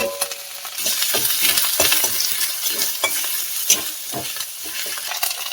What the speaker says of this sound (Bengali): দিয়ে ভালো করে আমি টমেটোটা ভেজে নেবো ভালো করে মশলার সাথে